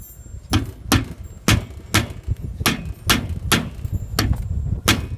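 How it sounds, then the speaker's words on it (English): A rubber mallet strikes a metal trailer wheel hubcap about ten times in a steady rhythm, each hit a close, sharp, dull knock, with no talk over the blows. "I'll take a rubber mallet,"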